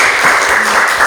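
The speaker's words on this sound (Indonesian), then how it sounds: "Oke, tepuk tangan." A classroom audience claps loudly and continuously, a dense close wash of hand claps with no other sound standing out.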